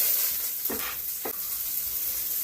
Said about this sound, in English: you hear that sizzle? That's what you want to,